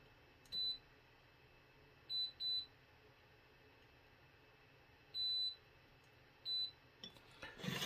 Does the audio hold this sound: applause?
no